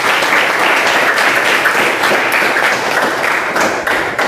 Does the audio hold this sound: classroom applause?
yes